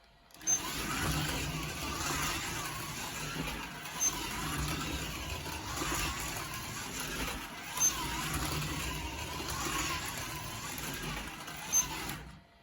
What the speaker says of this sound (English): The ultimate test now is to run a car around the track and see how it performs.